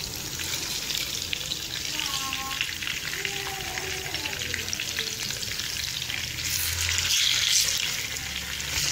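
Masala-coated fish pieces frying in cooking oil over a low flame, with a steady bubbling sizzle that holds evenly throughout, close and unbroken.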